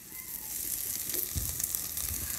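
Chopped ginger hits fried onions in a hot pan for a Bengali snack, producing a steady soft sizzle with a brief scraping stir near the middle, close but fairly quiet and without speech.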